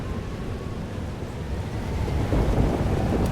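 Thunder rolls during a storm in Life is Strange: Double Exposure, a dense, broad rumble that swells louder toward the end, with no speech over it.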